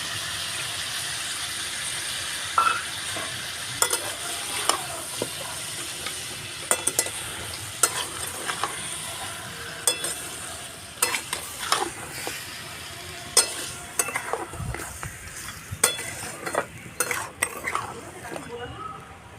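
Ginger, garlic and chili paste frying for dhaba-style chicken masala: a close, steady sizzle broken by frequent clanks and scrapes of a utensil against the pan, growing busier toward the end.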